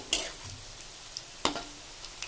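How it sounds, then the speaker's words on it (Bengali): Food sizzles in a frying pan while it is stirred and flipped, with a couple of sharp scraping clicks over a soft steady sizzle. "নেড়ে দেওয়া হচ্ছে একটা একটা করে, দেখো উল্টিয়ে দেওয়া হচ্ছে"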